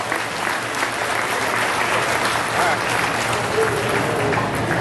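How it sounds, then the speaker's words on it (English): Sustained applause from a crowd at a 2012 market beef show champion drive, steady clapping filling the whole stretch, loud and close, with faint talk underneath. "let's give these kids a big round of applause"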